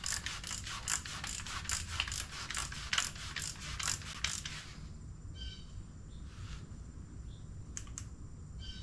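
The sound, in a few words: torquing down a motorcycle clutch with a ratchet wrench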